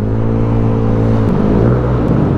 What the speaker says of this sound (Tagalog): Grabe yung ugong ng M3 no.